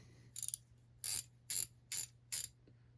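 A GearWrench ratcheting wrench being handled, giving five sharp bursts of quick ratchet clicks, close and crisp against a faint hum.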